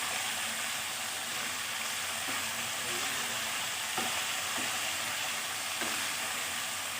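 Turmeric being stirred into food frying in a pan for a mustard drumstick and potato curry, a steady close hiss of sizzling oil with a few soft knocks of the spoon, no voices.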